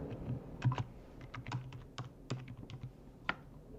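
Typing on a computer keyboard, a run of quick, light, irregular key clicks close by with no talking.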